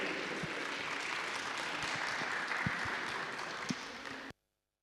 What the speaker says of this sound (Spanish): vamos a recibir con un fuerte aplauso a los jóvenes